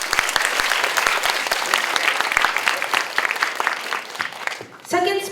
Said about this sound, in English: Everybody, please have a round of applause for Mitsushi Ono.